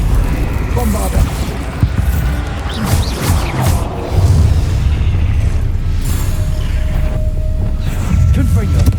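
Bombarda spell blasts in a Harry Potter video game boom out as heavy, rumbling explosions. Loud crashes and bursts overlap with crackling debris, while a voice calls out over the din.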